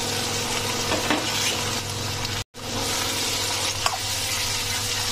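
Potatoes, peas and cauliflower stir-frying in a pan for poha, a steady close sizzle and crackle with occasional stirring scrapes, broken by a brief silent gap midway.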